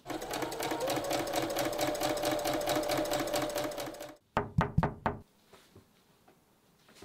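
A sewing machine stitches a floral summer dress in a rapid, steady mechanical chatter for about four seconds, then halts and gives a few sharp knocks before near quiet.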